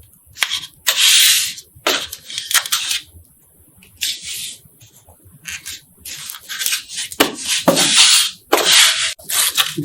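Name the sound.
tape being applied to a piece for a concrete mold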